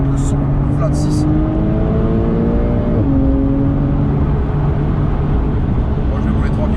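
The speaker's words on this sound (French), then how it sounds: "Ah, écoute le son, le flat 6." Porsche 911 Carrera S 992 flat-six with PDK gearbox revving on a wet road, loud and close, pitch climbing then dropping at a shift around three seconds, with a voice speaking briefly over it.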